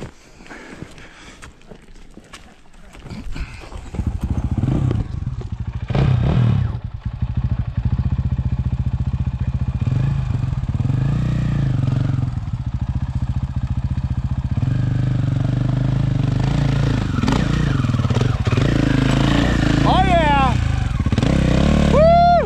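A dirt bike on a forest trail at Quartz Creek, Little Naches, Washington, revs hard at full throttle, a loud sustained engine roar with rising whines near the end, while people talk over it.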